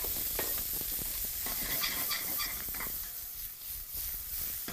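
Garlic, ginger and Portuguese sausage sauteing in oil in a wok, a loud steady sizzle with rapid stirring and scraping throughout, no voices.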